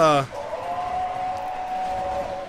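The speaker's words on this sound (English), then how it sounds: "it's a Williams stock whistle. It's called like a Sound Blast whistle." A Williams Sound Blast chime whistle on a triplex steam locomotive in a video game. It sounds as one sustained, loud, close multi-tone blast, with a brief burst of a voice at the start.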